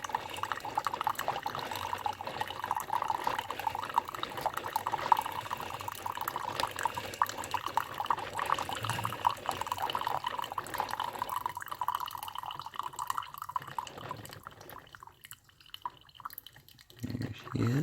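Coffee pours steadily into a cup, a continuous watery trickle under a low room hum that tapers off near the end, with a faint voice in the background.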